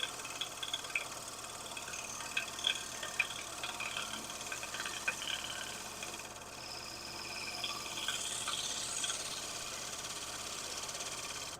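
A dull spindle gouge cuts wood on a lathe, a steady hissing scrape over the motor's hum with faint rhythmic ticks, continuous and close with no talking.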